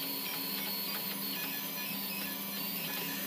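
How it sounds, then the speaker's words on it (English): A 3D printer printing in five colours at once whirs and buzzes steadily with stepper-motor tones and periodic soft ticks, close and continuous, with no voices. "I just wanted to give you a video showing the 5-color print in action"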